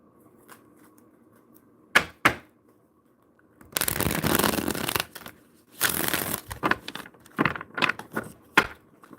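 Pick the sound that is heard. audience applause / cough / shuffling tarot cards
shuffling tarot cards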